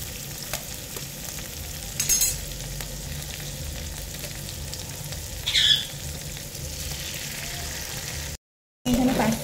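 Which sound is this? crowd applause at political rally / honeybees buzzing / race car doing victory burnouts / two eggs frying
two eggs frying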